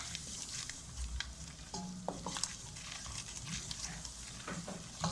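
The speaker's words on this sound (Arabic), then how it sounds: "احمصهم كويس، احمص الدقيق مع الزبدة" Flour toasting with butter and oil in a pan gives a continuous close hiss and gentle sizzle, with occasional light scrapes and knocks of a utensil stirring the mixture.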